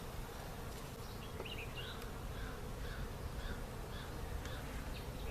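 Honey bees drone around a nucleus hive in a steady, dense buzz, with individual insects zipping past close by over a constant low hum; no voices.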